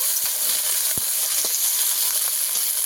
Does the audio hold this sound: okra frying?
yes